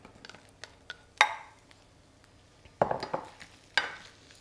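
A utensil scrapes and clinks against a pan as onions cooking in rice bran oil are stirred, with a few distinct scraping strokes over a faint background.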